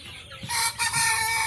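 Chickens cluck at a farm of roughly two-month-old birds, and a rooster crows loudly nearby in a short burst.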